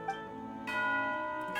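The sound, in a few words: bell signalling tea time, from a video game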